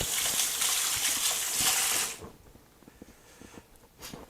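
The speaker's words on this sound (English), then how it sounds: "Just going to give my hands a little wash." Tap water runs hard into a sink while hands are washed beneath it for about two seconds, a loud broad gush that cuts off abruptly, leaving faint drips and small handling noises.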